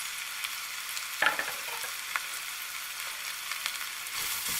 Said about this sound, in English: Add some curry leaves and our sliced onions.